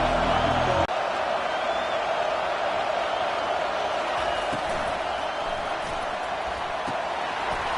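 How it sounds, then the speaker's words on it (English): A football stadium crowd roars at full volume, a dense, unbroken wall of cheering after a sharp thump at the start, holding steady for several seconds without any clear speech. "This crowd, full throats, swing the eardrums and letting them know it's going to be a long day."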